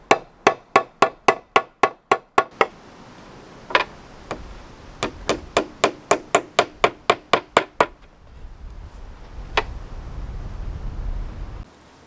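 Genuine American hickory hammer driving fixings into a barn roof during sheeting and battening, with sharp, evenly spaced blows in quick runs, separated by pauses and isolated strikes, followed by a stretch of wind noise against the microphone.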